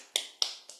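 Three light, crisp slaps of hands patting the body, evenly spaced and close, quiet and alone with no talking.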